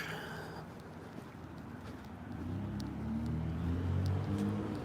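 A car rolls past along a street, its low engine rumble swelling from faint to fairly loud over a few seconds with light outdoor background noise.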